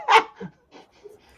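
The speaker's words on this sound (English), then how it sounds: "Just let the dogs out, so now they're gonna bark." Dogs bark outdoors: one loud, sharp bark first, then a few softer, shorter barks that trail off with brief pauses between them.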